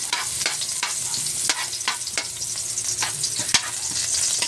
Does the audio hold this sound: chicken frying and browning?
yes